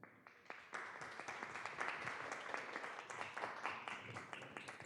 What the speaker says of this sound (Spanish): Un aplauso con mucho gusto.